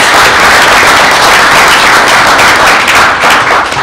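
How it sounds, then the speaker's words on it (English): An audience at a school board meeting gives a round of applause, with dense, loud, continuous clapping that fills the room and tapers only slightly at the end. "Let's give him a round of applause."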